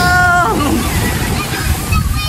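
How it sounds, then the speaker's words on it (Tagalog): Strong ocean waves at Talao Talao Beach in Lucena, Quezon, surge and slosh loudly at high tide during stormy weather, close by. A brief voice cuts in at the start, then only churning water is heard. "Malakas ang alon."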